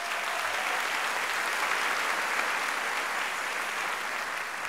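Dense, sustained applause from a large audience at a school district convocation Hall of Fame event, a loud, even roar of many hands clapping without pause.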